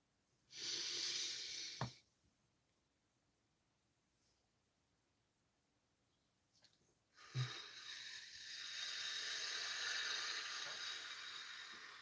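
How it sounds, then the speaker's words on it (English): Deep breathing during a guided breathing exercise: a long loud inhale, a pause of near silence, then another long airy inhale or exhale that stretches out, close to the microphone with soft hiss. "Let's take a nice deep breath."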